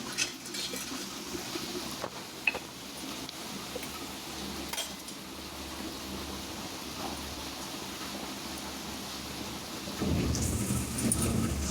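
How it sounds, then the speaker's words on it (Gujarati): Steady heavy rain pours throughout, with rumbles of thunder and a louder surge of downpour near the end. "વરસાદ ફૂલ ગાજે ઉઠ્યો છે દીદી આજે વરસાદ બહુ પડવાનો છે"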